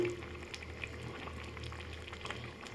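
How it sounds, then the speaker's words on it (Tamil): A pot of Tirunelveli-style pork curry boiling on the stove, a soft continuous bubbling and simmering with faint pops, heard alone at low volume. "நமக்கு நல்லா பன்றிக்கறி நல்லா கொதித்து வேகுதுங்க"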